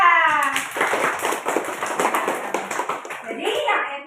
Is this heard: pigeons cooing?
no